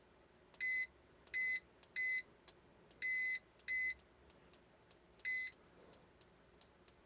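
A Proster T58B digital multimeter in continuity mode gives a series of short, sharp electronic beeps, about six bursts of uneven length in a loose rhythm as probes are tapped together, close and clear with faint clicks between.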